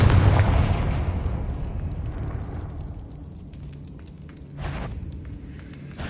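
A Confringo blasting spell from Hogwarts Legacy goes off in a loud burst that decays slowly into a long crackling, fiery rumble, and a second smaller blast follows near the end.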